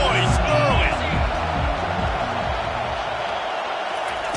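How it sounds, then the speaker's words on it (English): Stadium crowd in the NCAA 25 college football video game, a steady broadband roar that stays loud throughout, with faint voice-like tones rising from the mass early on. "This crowd bringing the energy and noise early."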